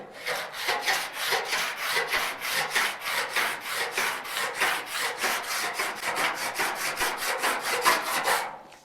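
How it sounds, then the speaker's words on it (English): A metal file rasps across the fender of a 1956 Chevy under body repair, about twenty-five rhythmic, evenly spaced strokes sounding close and loud with no talking. "let's hit this with the file again"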